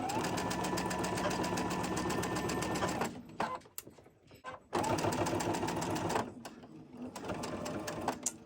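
A sewing machine stitches quilt fabric in rapid, steady bursts of mechanical chatter, running about three seconds, pausing briefly, then starting again. A faint voice is heard during the pause.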